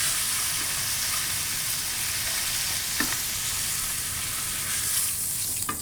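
Steak searing in a hot pan, every side crisping, gives a steady, dense sizzle and crackle that holds close and loud, with a faint utensil tap near the middle and no voices.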